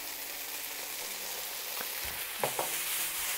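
Mushrooms with barbecue sauce sizzling in a hot pan for vegan pulled pork, a continuous crackling hiss close by, with a couple of louder spatters and a utensil tap near the end.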